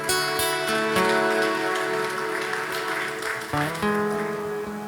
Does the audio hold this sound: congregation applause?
yes